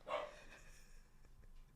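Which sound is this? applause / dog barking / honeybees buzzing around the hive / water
dog barking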